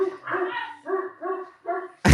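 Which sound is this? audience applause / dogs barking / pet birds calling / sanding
dogs barking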